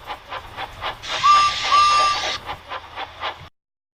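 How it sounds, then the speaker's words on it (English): A cartoon tank engine shunting trucks in a railway yard: rhythmic steam chuffs pulse steadily, broken midway by a loud hissing burst of steam with two short whistle-like tones, then the chuffing carries on until it stops abruptly. "He soon found Edward shunting trucks in the yard"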